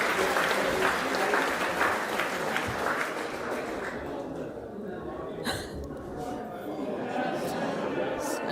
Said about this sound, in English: Applause, flowers and trophies given here on site.